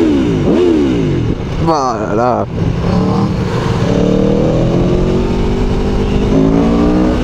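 An Aprilia, Yamaha, KTM or Honda naked motorcycle revs hard nearby, its engine rising and falling in pitch with sharp exhaust crackles, while people talk over it.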